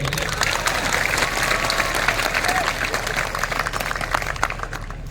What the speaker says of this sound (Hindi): तालियां बजाओ मोदी